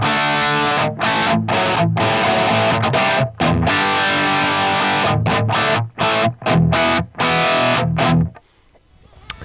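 Electric guitar through the Axe-Fx II Brit Silver amp model, played as distorted chords with several brief stops, loud and upfront, ending in near silence.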